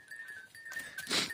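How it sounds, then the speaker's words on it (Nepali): Goats bleat in a forest grazing area, a short, fairly loud bleat rising over a steady high whine, with no talking. "यहाँ चाहिँ कतिवटा बाख्रा छन्"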